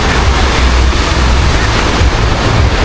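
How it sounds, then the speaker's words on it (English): Strong wind buffets the microphone on the Las Vegas Strip, a loud, unbroken rumbling gust that fills the whole moment with no letup. "No, this is the wind."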